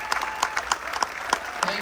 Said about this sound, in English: Give a round of applause for these two people in the room.